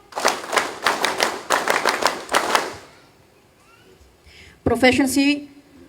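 A military closing ceremony crowd of Philippine Army Reserve trainees claps in unison, about eight sharp, evenly spaced claps in quick rhythm, then goes quiet before a nearby voice begins speaking.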